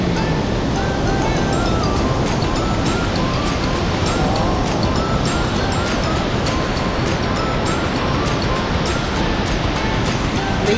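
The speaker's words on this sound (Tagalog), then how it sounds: "So ayan, dito tayo sa waterfall." Steady, loud rush of falling water at the Dila Falls, a dense broadband roar that holds constant from start to finish with no talking over it.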